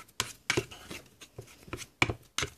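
Short, uneven scraping and tapping strokes as homemade kinetic sand is mixed with pastel, close and fairly quiet, with no talking.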